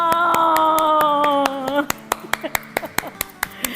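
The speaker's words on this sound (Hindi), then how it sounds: "तालियां!" Hands clap in a sharp, uneven burst of separate strikes as two helpers are welcomed into a home kitchen, following a short stretch of talking voices.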